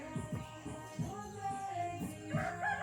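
Chickens cluck in a rural Amazon riverside setting, several short rhythmic calls close by, with faint background activity and no talk over them.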